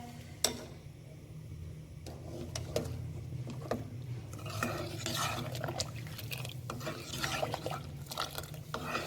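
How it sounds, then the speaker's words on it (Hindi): A spoon stirs kheer mix in a pot on the stove, with soft scraping, clinks and liquid swishing repeating unevenly, close by and fairly quiet, while a person talks intermittently over it. "अब इसमें हमने चम्मच हिलाते जाना है मुसलसल"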